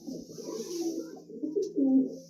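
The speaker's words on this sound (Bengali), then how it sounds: "কি পায়রা এটা? এটাই নাজরা পায়রা" A male Najra pigeon coos close by, a short run of soft, throaty, rolling calls that swell toward the end, heard alone without speech.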